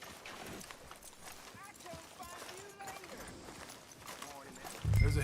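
In Red Dead Redemption 2, a horse's hooves clip-clop at a steady walk on a town street, fairly faint beneath game dialogue and ambient town noise.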